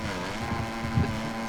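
Yamaha YBR 250 motorcycles racing in round 3, an engine revving out of corners as a steady, moderately distant drone with a brief louder surge near the end, wind noise around it.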